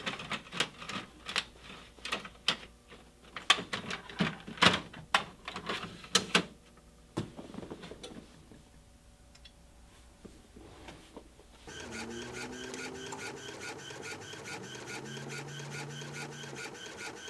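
An inkjet printer feeding and printing on 3G opaque heat transfer paper, with a run of loud clattering mechanical clicks and knocks, a brief lull, then a steady whirring print pass with motor tones.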